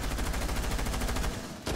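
Rapid automatic gunfire from a Rainbow Six Siege match crackles in a loud, continuous burst of closely spaced shots, ending abruptly with one final sharp report.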